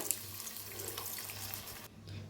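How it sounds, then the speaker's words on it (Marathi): A cup of water pours into a spiced egg curry as a soft, steady stream that stops abruptly near the end. The pour is quiet and close, with no voices. "1च वाटी पाणी घालूया।"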